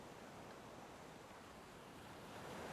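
Ocean waves washing against the hull of a ship at sea at sunset, a soft continuous wash of surf with faint breeze noise, low and steady throughout.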